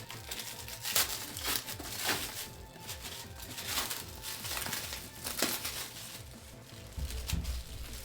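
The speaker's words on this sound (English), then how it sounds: "I figured trying to talk over that like crinkling was just a little ridiculous." Plastic packaging around acrylic cases crinkles and crackles close up in irregular bursts, with sharp rustling peaks scattered across the whole stretch and no talking.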